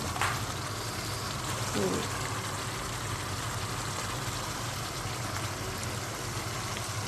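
Meat curry sizzles steadily in a kadhai with green chilies, a soft, even frying hiss that continues throughout with no talking.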